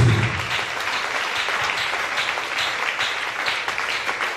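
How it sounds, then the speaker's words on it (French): Church congregation applauding together for Jesus, a dense, steady wash of many hands clapping at full volume throughout, with a few cheers mixed in at the start. "Acclamez encore une fois pour Jésus."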